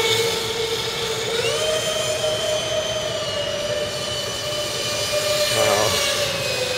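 A Techone F-18 electric ducted fan RC jet flies overhead, a loud, continuous high-pitched whine with a steady tone that rises in pitch and dips as it passes, over a constant rushing roar.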